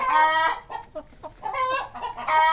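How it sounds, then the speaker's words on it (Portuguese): Hens in a backyard near a lemon tree cluck and squawk close by in several rising and falling bursts, with short quiet gaps between calls. "Essas galinhas botam, pessoal."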